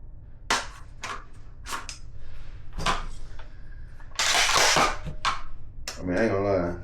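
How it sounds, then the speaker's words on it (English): A Panzer BP-12 shotgun fired a few times in a backyard, sharp loud cracks spread across the stretch, mixed in with nearby voices talking between and around the shots. "We'll take in the backyard and shoot it a couple times."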